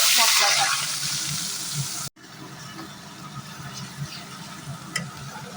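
Katla fish masala cooked down in oil mixed with ghee with whole garam masala, a loud bright sizzle up close for two seconds, then a quieter simmering crackle with occasional stirring clicks.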